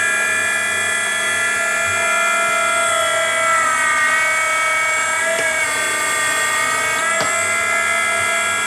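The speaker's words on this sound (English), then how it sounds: "start it, trim it, let it fall into the pot" A Henderson precision trimmer runs steadily while trimming a cartridge case, giving a continuous high-pitched motor whine with a slight pitch dip near the middle and brief clicks, heard alone without talk.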